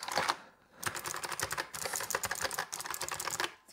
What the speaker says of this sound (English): Certainly sounds a lot better than previous Razer keyboards I've used.